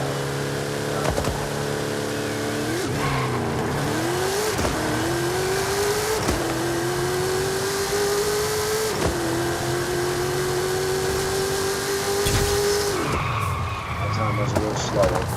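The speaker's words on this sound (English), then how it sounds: "We'll rev the car up just to the highest torque power band right before it gets to horsepower." A car engine in Forza Horizon 5 revs hard and climbs through the band, pitch rising steadily and dropping at each shift, loud and continuous with no pause.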